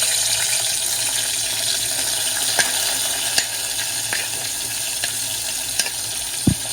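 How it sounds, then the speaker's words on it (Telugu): Green chillies fry in two tablespoons of hot oil while a prawn chana dal curry is being cooked. A loud, even sizzle crackles steadily throughout, close by, broken by occasional small pops and one utensil knock near the end. "అలాగే పచ్చిమిరపకాయలు బ్రౌన్ కలర్ వచ్చేంత వరకు ఫ్రై చేసుకోవాలి"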